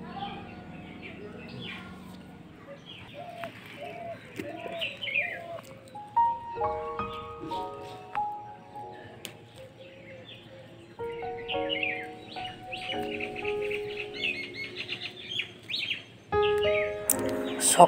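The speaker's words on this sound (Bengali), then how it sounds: "সকালবেলা কত রকমের পাখির ডাক শোনা যায়," Morning birdsong with several kinds of birds chirping and calling in varied, overlapping phrases, some notes held as clear tones, heard at moderate distance over a soft, steady background hum.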